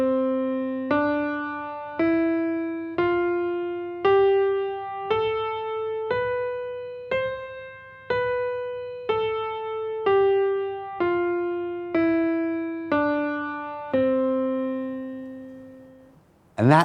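A piano plays a slow right-hand five-finger scale starting on middle C, one clear note about every second climbing up and back down, each tone ringing and decaying before the next, with no talking.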